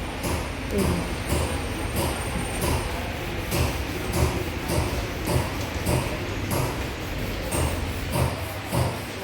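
Wooden handloom weaving cloth at a craft workshop near Siem Reap, Cambodia, giving a steady, repetitive clatter of rhythmic knocks and shuttle movements, moderately loud and continuous with a busy room hum behind.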